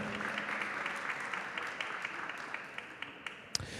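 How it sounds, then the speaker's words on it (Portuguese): Applause fills a formal judicial debate hall, a steady patter of many hands clapping that slowly fades, heard somewhat distantly. "Uma salva de palmas também."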